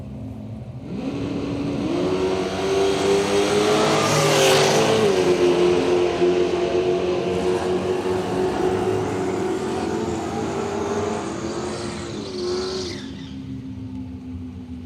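Shane Locke's small Chevy Love ute drag racing at Willowbank Raceway, its engine roaring up through a hard rising rev, shifting pitch mid-run and fading as it pulls away, loud and close with no talk.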